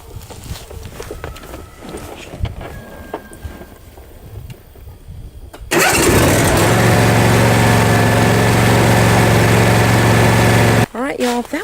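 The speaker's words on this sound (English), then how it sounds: "Next step is to start the engine, let it run a few minutes" A zero turn mower engine cranks and catches, then runs loud and steady at a constant idle before briefly dropping off; quiet shuffling and handling noises precede the start.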